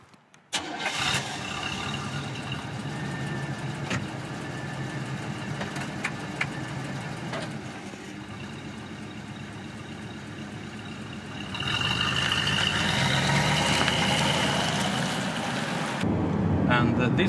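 A 1989 Cadillac Brougham cranks and catches, then settles into a smooth, quiet idle that swells louder partway through before cutting off, heard close up with no talking.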